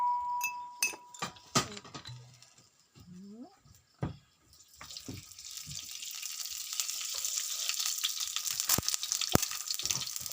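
Tiny native chicken eggs frying sunny side up in a pan, with a few sharp clinks and taps at first, then a soft, steady sizzle rising and continuing to the end.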